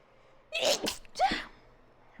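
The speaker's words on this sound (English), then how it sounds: "what it means when you sneeze during psychic readings" A person sneezes once: a sharp two-part burst, close and fairly loud, over a quiet room.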